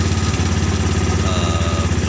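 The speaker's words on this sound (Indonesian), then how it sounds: "Suaranya juga tetap suara motor, karena ujung knalpot ini" A car fitted with a motorcycle engine and a KLX motorcycle exhaust tip runs at a steady idle, close and loud, with a rapid, even putter throughout.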